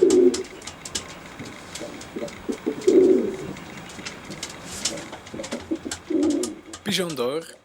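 Pigeons coo in several low, rounded bursts scattered through the clip, with faint voices, scattered clicks and a closer burst of movement near the end.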